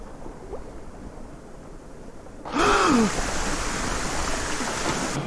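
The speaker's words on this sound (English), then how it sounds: "Behind a waterfall, maybe?" A steady rushing waterfall roar in The Last Door Season 2 begins abruptly partway through and holds loud and constant to the end, with a brief voiced gasp at its onset.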